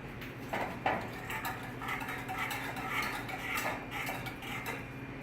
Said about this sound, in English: stirring it so it doesn't burn on the bottom